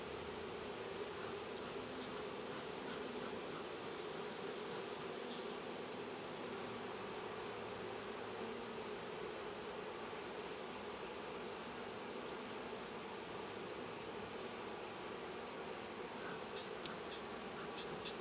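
Queenless honeybees swarming in a new hive box, a dense, steady buzzing hum that stays even throughout, close but fairly quiet, with no voices.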